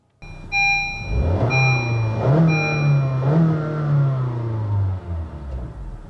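Honda small car with a 1.5-litre Earth Dreams engine accelerating from rest, revs climbing through two gear changes in a rising, steady drone heard from inside the cabin, with chime tones at the start.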